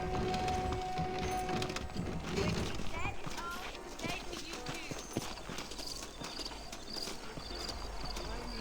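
Horse hooves clip-clop steadily in the Western game Red Dead Redemption, set in New Austin, a continuous rhythmic trot running throughout under ambient game sounds and talking voices.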